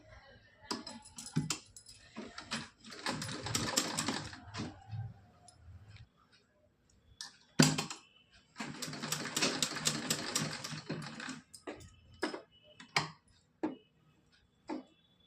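A sewing machine stitches pleats into a cotton dress in two long bursts of rapid mechanical clatter, with short isolated taps and pauses between the runs.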